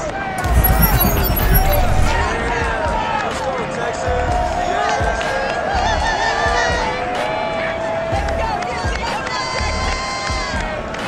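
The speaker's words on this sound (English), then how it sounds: "this crowd enthusiastically cheering on their Texans as they emerge from the locker room" A large crowd cheers loudly and continuously in a video game football stadium in Madden 22, a dense roar with shouts and whistles rising above the steady hubbub throughout.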